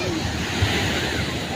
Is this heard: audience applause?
no